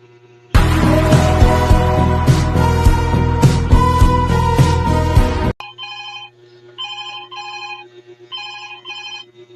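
Cellphone ringing loudly and close, first as a dense bright ringtone melody for about five seconds, then as repeated short electronic beeping bursts that continue alone.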